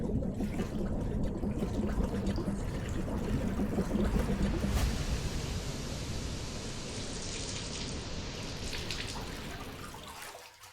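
Steady rushing water like a waterfall, with a reversed drum swell that builds and then recedes before it tails off.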